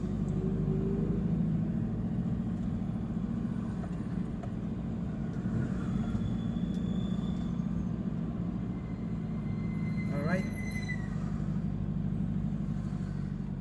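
Continuous low road traffic rumble from cars on a road in Tawang, steady and moderately loud throughout, with a brief higher whine or squeal near the end.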